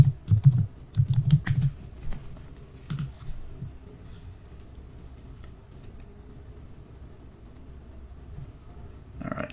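A burst of rapid keystrokes on a computer keyboard as a password is entered, close and crisp for about two seconds, followed by quiet room tone, a few isolated clicks and a final click at the end.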